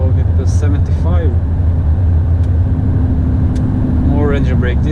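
A truck and trailer descends on its engine brake, with a heavy, low, unbroken drone filling the cab and a voice talking over the steady roar.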